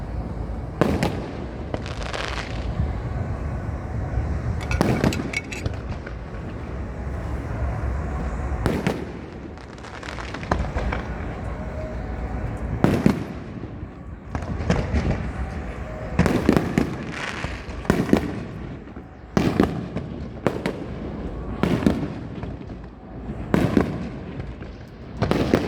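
Fireworks at a USA 250 celebration go off in a long run of loud, sharp blasts and crackling bursts, some spaced apart and some in quick clusters, over a steady background hiss.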